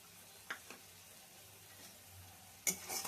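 Spice paste mixed with nut and poppy seed paste frying in a pan for prawn malai curry, a faint soft sizzle with a few sharp clicks of a stirring spoon against the pan.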